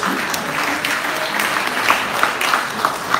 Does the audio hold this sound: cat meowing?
no